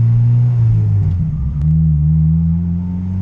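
A Honda Integra engine fitted with a Skunk 2 intake manifold idles steadily around 1,000 rpm, a loud, close, continuous low rumble with a slight wavering in the middle and no voices.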